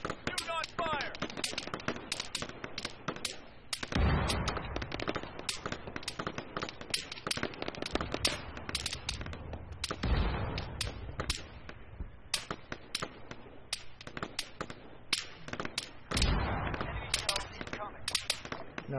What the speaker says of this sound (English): You are being shot at by the way